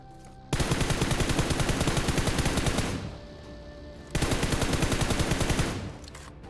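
Automatic gunfire sprays at an enemy in a battle royale video game: two long, loud, rapid bursts of fire separated by a brief pause.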